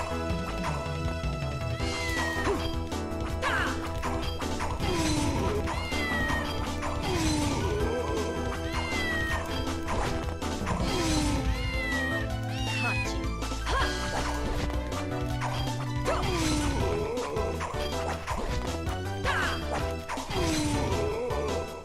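A cat meows repeatedly in the video game Castlevania: Order of Ecclesia. The short rising and falling cries come every couple of seconds over loud, continuous game music and clattering effects.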